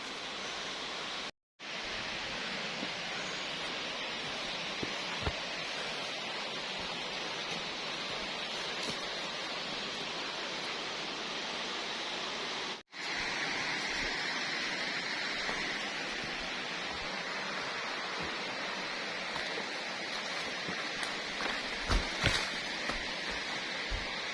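Tat Yai waterfall in Phu Pha Man, Khon Kaen, sends a steady, even rush of falling water that fills the whole stretch, briefly cutting out twice, with no voices.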